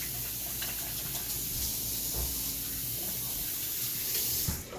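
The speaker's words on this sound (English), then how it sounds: "Then we're going to wash our hands real quick." Hands are washed under a running kitchen tap while making crab cakes, giving a steady close hiss of flowing water throughout that cuts off at the very end.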